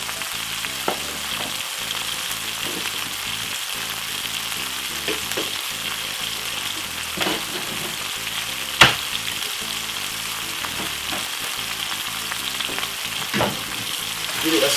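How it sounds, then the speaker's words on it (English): Salt fish sizzles steadily in a hot pan as it is stirred, with a continuous close frying hiss broken by occasional scrapes and clacks of a utensil against the pan. "Give it a stir."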